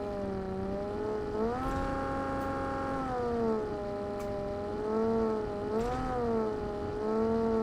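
A vehicle engine in the PUBG video game drones steadily and rises and falls in pitch as it drives up a hill, loud and close throughout with no voices.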